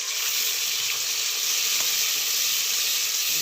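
Tomatoes and green chillies for an aloo and baingan sabzi sizzle in a frying pan, a loud, steady, close hiss of hot oil that never lets up, with no voices.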